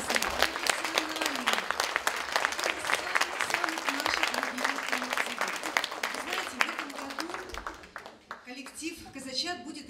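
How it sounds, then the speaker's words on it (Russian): Audience applause for a performing group at a concert, loud, dense clapping that continues steadily while a voice speaks over it, with the clapping thinning near the end. "Я думаю, что вы еще раз подарите огромные аплодисменты этому коллективу."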